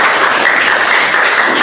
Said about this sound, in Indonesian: Nah, itu tepuk tangan.